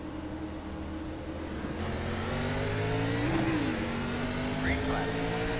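An ARCA Menards Series race car engine at Richmond in iRacing revs up through the gears, its drone climbing and shifting in steady close pulls, with a voice talking over it.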